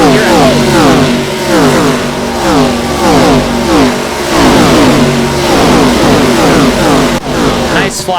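NASCAR race cars roar past at speed during the MBNA Bass Pro Shops 500 at Atlanta, loud engines rising and falling one after another in a continuous stream of passes, with commentary under the noise.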